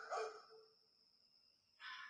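A recorded dog bark played back, two short sharp yelps separated by a brief quiet gap, faint and thin.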